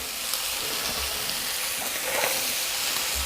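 Vegetables, including carrot and other hard vegetables, sizzle steadily in a hot pan for a Tuscan bean soup, a continuous bright crackling hiss with a faint scrape of stirring partway through.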